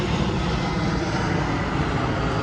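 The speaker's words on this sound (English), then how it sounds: "hold for the plane" A fixed-wing propeller airplane passes overhead with a steady, broad engine roar that holds loud and even throughout, with no voices.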